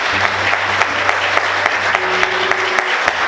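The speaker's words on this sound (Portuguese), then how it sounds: "Você pode aplaudir Jesus?" Congregation applauding during a church service, a dense steady wash of clapping that fills the space for a few seconds, with a low sustained organ or keyboard tone underneath.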